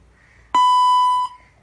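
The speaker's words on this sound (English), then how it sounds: "Bob, please speak in English after the beep" One loud, clear electronic beep from a robotic language translator prompting speech, held for just under a second, then silence.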